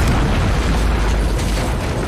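A drone explodes in a war film set in Iraq: a loud, sustained, dense blast rumble with heavy low-end roar that fills the full two seconds without letting up.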